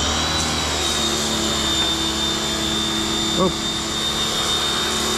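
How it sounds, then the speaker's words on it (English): An air compressor runs as a steady mechanical drone with a constant high whine, connected through a kink-resistant hose to a Sun Joe SPX2598 pressure washer. A single short exclamation briefly cuts in over the running machine. "We're gonna turn the compressor on."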